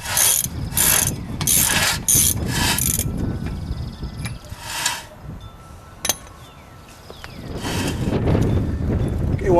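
A ratchet wrench snugs down the rotor nut on a Ford F250 during a ball joint repair, giving several quick bursts of close clicking with pauses and light metallic handling in between.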